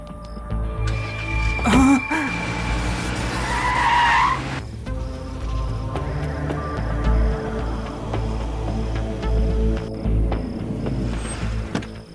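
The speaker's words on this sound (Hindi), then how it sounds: "शायद मास गैंग वालों के घर के पास गाड़ी रुकी है।" A car skids to a stop near a house, a short loud tire squeal rising early, then a low rumbling engine and mechanical rattling continue steadily beneath a dark, tense background.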